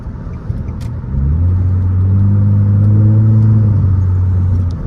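A straight-piped Nissan Altima revs on the road, its exhaust swelling from a low idle into a loud, sustained droning rumble that holds steady close to the listener.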